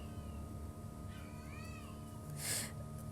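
A female cat in heat meows in soft, drawn-out wavering calls, a few repeated cries at moderate distance over a quiet room hum, ending with a brief rustle.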